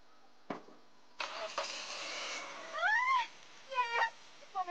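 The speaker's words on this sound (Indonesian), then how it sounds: "Yes, mobil udah nyala." A car engine cranks and catches, giving a loud rumbling burst that settles into a running idle, followed by rising, chirping tones.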